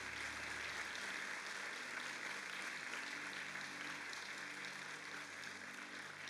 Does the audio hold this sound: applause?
yes